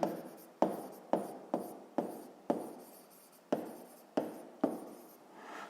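Pen strokes on paper while writing out a sixth-grade math exercise by hand, a run of about ten quick scratching strokes in an even rhythm, close and clear, with no talking.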